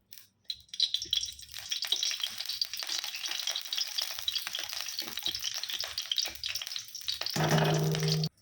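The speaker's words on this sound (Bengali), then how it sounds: "এবার আমি কড়ার মধ্যে ঘি দিয়ে দিচ্ছি।" Ghee sizzles and crackles in a warm kadai on a gas stove while carrot halwa is being made, a steady close frying hiss with scraping stirs and a brief metallic clink near the end.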